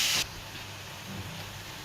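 Chopped spinach and coriander leaves sauté in a pan for a palak cutlet mix, giving a soft, continuous sizzling hiss after a brief sharp burst at the start.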